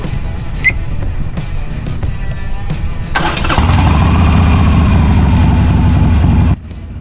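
A Harley-Davidson Iron 883 motorcycle engine starts after a few clicks and settles into a loud, close, lumpy idle rumble, then cuts off abruptly near the end.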